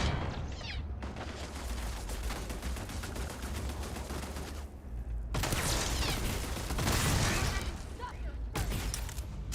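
Turrets fire in the space video game Starfield, a dense sustained barrage of rapid gunfire with a brief lull midway before it resumes just as loud.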